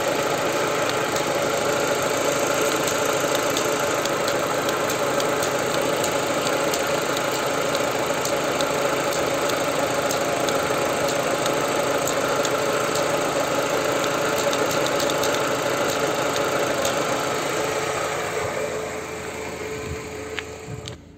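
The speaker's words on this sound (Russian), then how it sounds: "я вам покажу, как должен издавать щелчки клапан" A warm idling car engine runs steadily close by, with a crankcase ventilation (PCV) valve adding faint rapid clicks over the constant hum until the sound fades near the end.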